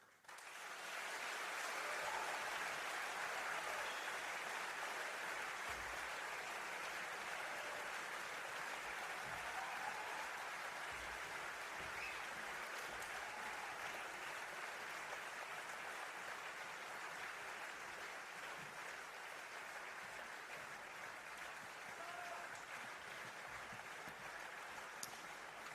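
A large audience applauds a Dutch choir in a hall, producing dense, steady clapping that holds fairly evenly for about twenty-five seconds at a moderate, somewhat distant level, with no talking.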